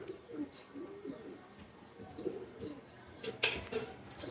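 A teddy pigeon coos at a pigeon sale in Kolkata with repeated soft, low, rolling calls, joined by brief chirps and a sharper call near the end, over quiet background noise.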